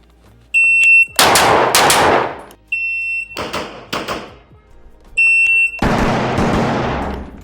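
A KRISS Vector fires at targets outdoors in loud, close bursts of sharp cracks, two quick shots at a time, each string preceded by a shot-timer beep and followed by fading echo.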